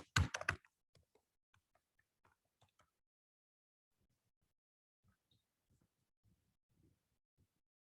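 Scattered, faint clicks of typing on a computer keyboard in a quiet room, with a short dense flurry of keystrokes at the start followed by sparse, isolated taps.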